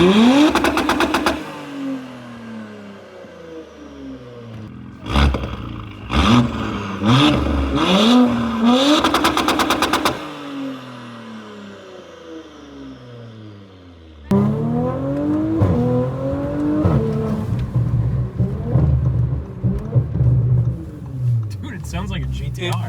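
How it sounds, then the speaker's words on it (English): A B9 Audi S5 fitted with a decat downpipe revs hard in several sharp bursts, its exhaust roaring and echoing off nearby walls, with people talking excitedly between the blips. "It literally sounds like a GTR"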